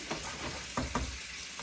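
Risotto cooking in a pan with wine evaporated and a fresh ladle of broth added, a soft steady bubbling hiss broken by a few spoon-stirring scrapes, close and fairly quiet with no talk.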